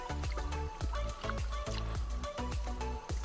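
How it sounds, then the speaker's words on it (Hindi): Cold mountain spring water runs in a Manipur village, splashing and gurgling close by in a quick, pulsing rhythm that continues throughout. "ये जो पानी आ रहा है ना, ये पहाड़ से आ रहा है, पूरा ठंडा है।"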